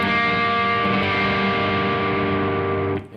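A single minor chord rings out on an electric guitar with heavy distortion, a dense fuzzy wall of tone sustaining for about three seconds before being abruptly choked off.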